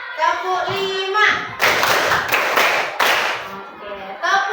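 A class of children clapping in unison during a counting clap game, a long loud stretch of rapid clapping framed by spoken chanting at the start and end.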